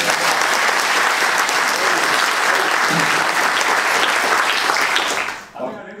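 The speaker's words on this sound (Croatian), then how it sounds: "Jedan aplauz za Mislava." A room full of people at a book promotion in Tomislavgrad claps loudly and steadily for Mislav. The dense applause holds for about five seconds, then cuts off abruptly.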